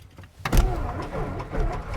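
A small airplane engine cranks and catches after a brief quiet moment, settling into a steady, loud, rumbling run close by.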